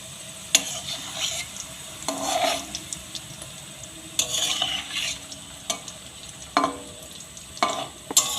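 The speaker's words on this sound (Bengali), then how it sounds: "এখন অল্প আঁচে ভেজে নেব।" Palm fruit fritters (taler bora) frying in oil over low heat, a steady soft sizzle broken by several short bursts of stirring and scraping in the pan, close by with no voices.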